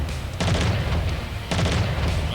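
Heavy missile explosions from a full alpha strike in a mech combat video game, two deep booming bursts with a sustained low rumble, loud and close, no talking over them.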